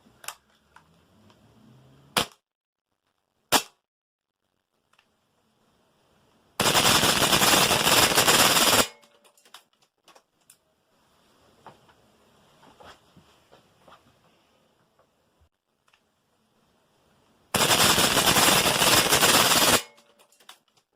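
ASG MP9 gas blowback airsoft gun firing tracer shots in two loud, rapid full-auto bursts of about two seconds each, with a few single sharp clicks and quiet handling noises in between.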